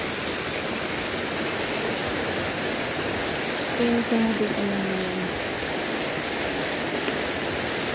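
Steady heavy rain in the Philippines pours down in a constant hiss, with a short spoken phrase briefly audible partway through.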